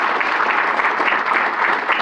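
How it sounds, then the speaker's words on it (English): An audience at a membership meeting gives a round of applause, a short, dense burst of steady clapping heard alone and fairly loud. "You can give a round of applause for that."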